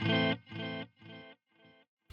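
Digital delay mode on a JST Toneforge Disruptor djent amp sim: one distorted guitar chord followed by three clean, evenly spaced repeats that fade step by step, then a new loud strum at the end.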